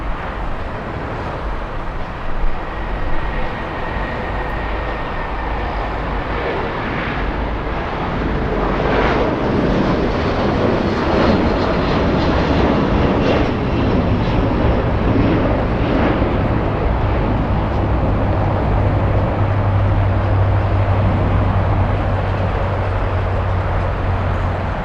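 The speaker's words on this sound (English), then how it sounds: "Let's go for the 757 takeoff." A Boeing 757 jet taking off at Los Angeles International Airport under a marine layer, heard as a steady, broad, loud roar with wind noise that builds slightly and holds for the whole stretch, with no talking.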